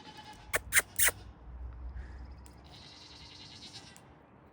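A baby goat bleats three times in quick, loud succession close by, followed by quieter faint chirps and a soft high tone in the background.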